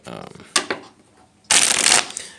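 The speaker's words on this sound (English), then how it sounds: "We'll do one more quick shuffle real quick." Playing cards riffle and flutter close by, a couple of quick flicks followed by one fuller, louder shuffle.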